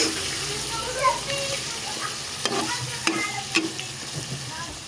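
Pork, broccoli and mushrooms stirred in a sizzling pan, with a wet frying hiss and a few spatula scrapes and knocks, up close.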